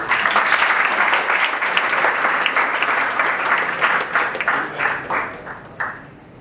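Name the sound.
audience applause for a student's question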